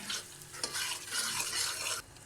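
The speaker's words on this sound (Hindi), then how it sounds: "अभी इस मसाले को भूनना है।" Spice masala sizzling and frying in a pan for Lahori chickpea curry, a close, continuous crackling hiss with stirring scrapes throughout the short stretch.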